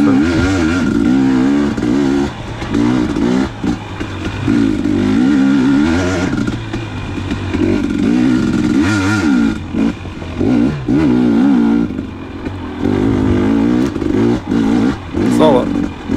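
A 2019 KTM 250xc two-stroke dirt bike ridden on granite trail laps at Lilly Prairie near Johns Peak, its engine loud and close, revving up and down repeatedly with throttle blips and brief dips, while a rider talks over it.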